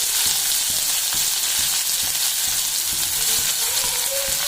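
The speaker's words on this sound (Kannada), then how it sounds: "ಎಣ್ಣೆ ಕಾದ್ಮೇಲೆ ಇದಕ್ಕೆ ಜೀರಿಗೆ ಹಾಕೋತಿದ್ದೀನಿ, ಆಮೇಲೆ ಈರುಳ್ಳಿ, ಬೆಳ್ಳುಳ್ಳಿ ಪೇಸ್ಟ್" Cumin seeds with onion and garlic paste sizzle in hot oil for a black-eyed bean sabji: a loud, steady frying hiss close up, punctuated by a regular series of light stirring taps against the pan, without speech.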